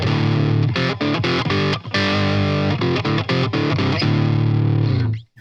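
An electric guitar plays through a Fender Champion 50XL amp with heavy distortion, chunky sustained chords struck in a loose rhythm with brief choked gaps, loud and close until the final ring cuts off.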